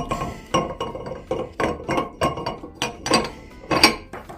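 Metal parts of a spritz cookie press grinder being fitted together, starting with the auger screw, giving a string of close, irregular clinks and knocks over a few seconds.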